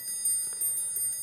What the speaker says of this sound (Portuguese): o alarme de Franklin